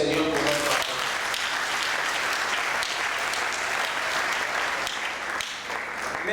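A church congregation claps and cheers for the Lord in a sustained, dense burst of applause that fills the room, steady and loud from start to end.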